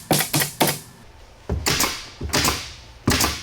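Nail gun firing nails into a Halloween entrance prop for a haunt: about seven sharp, loud, close impacts in irregular clusters, each with a brief ringing tail, separated by short quiet gaps.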